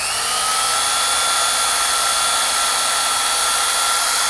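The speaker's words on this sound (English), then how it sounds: "Got my hole drilled." Power drill boring a small hole next to a roof rafter, a loud continuous high-pitched whine held steady throughout, close by with no voices.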